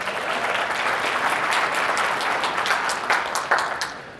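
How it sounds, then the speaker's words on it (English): A room of people at a real estate and financial literacy talk claps together, a dense, even round of applause that holds steady, with a few sharper individual claps standing out near the end. "So give yourself a round of applause."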